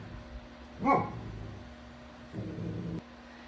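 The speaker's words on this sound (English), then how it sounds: "You probably heard my dog starting to bark in the background" A pet dog gives one sharp bark off in the background, followed about a second later by a short muffled rumble, over quiet indoor room tone.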